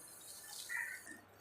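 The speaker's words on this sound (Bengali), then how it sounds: "জল দিয়ে দিলাম।" Water poured into a pan of simmering fish curry, a brief soft splash and trickle that swells for a moment and fades, quiet against a faint kitchen background.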